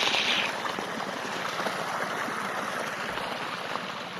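Water flows from a brand-new hose into a seedbed on a farm, a steady close rushing hiss that stays even and continuous throughout, with no talk.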